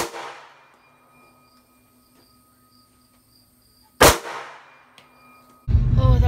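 A single loud, sharp gunshot at a gun club shooting range cracks out of quiet outdoor ambience with faint insect chirps, echoes briefly, and is followed by a rush of noisy wind or movement near the end.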